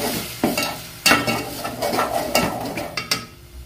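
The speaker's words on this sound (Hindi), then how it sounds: "अब इसके अंदर हम टमाटर का पेस्ट ऐड करेंगे। ये मैंने 2 टमाटर लिया है, उसका मैंने पेस्ट बना लिया। इसको भी अच्छे से मिक्स कर देंगे।" Spoon scraping and stirring tomato paste with fried garlic in a pan, several sharp clinks against the metal over a steady low sizzle, close and fairly loud, no talking.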